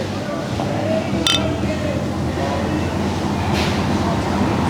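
Beer glasses clink once in a toast at a noisy pub, a single bright chime rising over a steady wash of room chatter and background noise.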